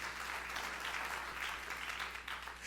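A church congregation claps together in praise, a soft, distant, continuous patter of many hands.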